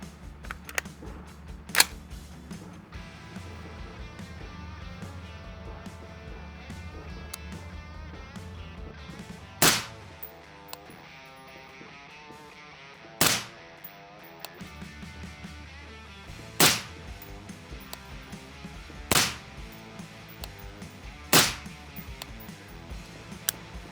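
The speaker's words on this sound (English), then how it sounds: "We'll go eyes and ears, we'll shoot our first string, and then we'll make some adjustments." Rifle shots during red dot optic zeroing with a SIG SAUER, five or six sharp, loud cracks spaced a few seconds apart over low background noise, with no talking.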